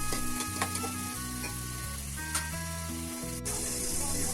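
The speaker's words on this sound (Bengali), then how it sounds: "এখন নেড়ে চেড়ে দিচ্ছি" Chopped onions stir and sizzle in a hot pan while a chicken curry cooks, a steady close frying hiss with scraping stirs, all under a soft tonal background hum.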